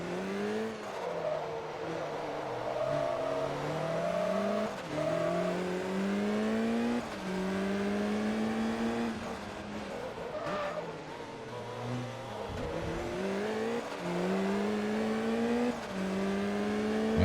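Race car engines in Forza Motorsport 2 howl loudly as they climb through the gears, with repeated rising pitch sweeps, brief drops at shifts and some tire squeal, heard steadily with no talk.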